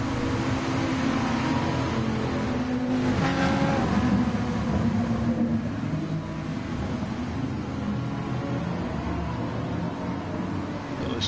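A pack of GT race cars roars around the Spa circuit in a racing game, engines droning steadily and loud without a break as several cars run close together.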